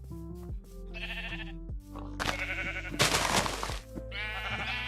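Sheep bleat in Minecraft, several wavering, nasal calls in a row, loud and close, with a harsher noisy burst in the middle and no talk over them.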